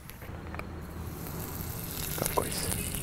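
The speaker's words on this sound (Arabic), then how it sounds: "ونفس بقى الزيت اللي فيه طعم البيكن ده او البيف بيكن هزود عليه زبده" Butter added to bacon fat in a hot pan gives a soft, steady sizzle and faint crackle, quiet and close, with a small clink near the end.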